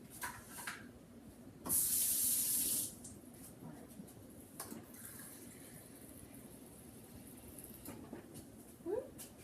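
Tap water gushes briefly into a measuring cup in a home kitchen, a loud steady spray lasting about a second amid quiet room noise and small clinks.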